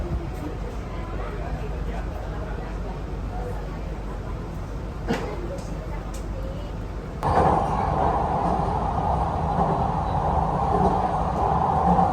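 Riding a Jakarta MRT North-South line metro train, a steady low rumble and hiss of the carriage fills the cabin, stepping up to a louder, brighter roar partway through, with background voices and announcements faintly present.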